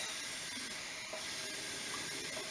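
Okra stew steams in a covered pot, giving a steady, broad hiss that stays even and fairly quiet the whole time, with no voices.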